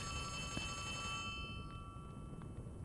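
A telephone bell rings in bright repeated bursts for about a second, then falls quiet, leaving faint room noise.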